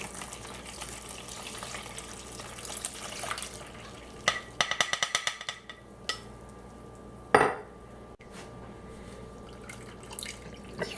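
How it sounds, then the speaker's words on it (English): Violet flowers drained from vinegar water in a kitchen, with faint trickling and dripping, a run of quick clinks from a dish or utensil, and a sharper knock partway through. "after a week of those violets sitting in the vinegar water, you want to drain all of the flowers off"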